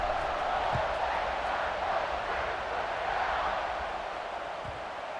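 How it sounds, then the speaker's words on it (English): Stadium crowd roaring at kickoff of a college football video game, Georgia at Ohio State, a broad steady wash of distant cheering and noise with no clear talk. "this crowd now ready to get behind them"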